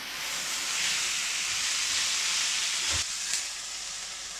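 Meat sizzling and hissing loudly in a hot pot as it is turned, a dense continuous frying hiss with a brief scraping knock near the end.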